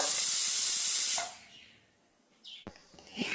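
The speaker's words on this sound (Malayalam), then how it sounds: "ഇതിൻ്റെ ആവിയെല്ലാം താനെ ഇതുപോലെ ഇരുന്ന് തന്നെ പോയതിന് ശേഷം മാത്രം നമ്മൾ കുക്കർ തുറക്കാൻ പാടുള്ളൂ" A pressure cooker cooking sweet potatoes hisses out steam loudly for about a second, then cuts off into near silence before a few faint clatters.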